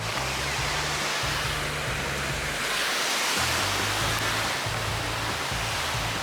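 Ocean waves at Ocean Beach, San Diego wash in as a steady, loud broadband roar of surf that never lets up, with low rumbling underneath and no voices.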